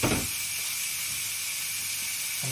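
A peach charring in a hot pan with olive oil for a burrata and peach salad, a steady close hiss and sizzle that holds evenly throughout.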